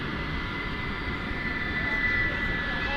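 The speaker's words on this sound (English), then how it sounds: "I hear some A300 engines." Airbus A300 jet engines roar steadily at DFW airport, a broad continuous rumble with a faint thin whine on top, close and fairly loud throughout.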